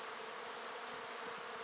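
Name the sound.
bees buzzing around a bait hive box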